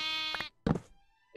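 Sheep in a video game bleat twice in quick succession, loud and close, each a nasal wavering call with a brief gap between them.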